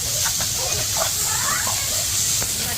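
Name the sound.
onions sautéing with salt, stirred in a pan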